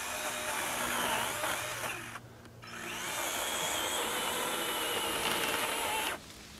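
A SKIL 40V cordless pole saw cuts through a 3-inch tree limb in a steady, loud buzzing drone, with a brief dip partway through before it resumes and cuts off near the end.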